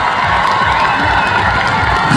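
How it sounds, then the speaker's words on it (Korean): A large crowd cheers and applauds loudly and continuously at an outdoor sweetfish festival concert in Bonghwa, with bright shouts from many voices throughout. "잘했다 생각하시면 큰 박수 한번 주시겠어요?"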